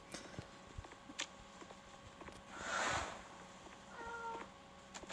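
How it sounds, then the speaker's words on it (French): House cats meow twice, faint and drawn-out, in a quiet room behind sharp clicks and light tapping while a game is played. "Ah arrêtez de miauler les chats là, c'est pas possible."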